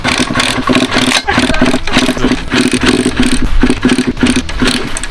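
A motorcycle engine that had not been started for a long time, likely flooded with too much fuel, runs loudly nearby, a rough, uneven idle with pulsing throb and rattling, briefly dipping before picking up again.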